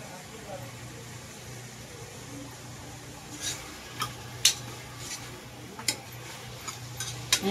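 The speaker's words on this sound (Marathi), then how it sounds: "ह्याच्यात टाकूया मटण, चांगलं हलवून घेऊया" Mutton being stirred into a pan with onion and curry leaves, with faint scraping and sharp metallic clinks of a spoon against the pan over a low sizzle, the clinks growing more frequent toward the end.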